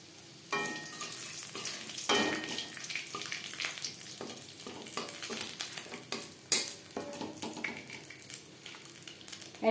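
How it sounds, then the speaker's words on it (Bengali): Dried red chillies and a bay leaf fry in hot oil in a kadai for a tempering, with a busy, crackling sizzle and repeated spatula scrapes and stirs throughout. "তেজপাতা, শুকনো লঙ্কা ভেজে নেওয়ার পর"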